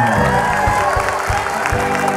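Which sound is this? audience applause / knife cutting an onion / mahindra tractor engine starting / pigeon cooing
audience applause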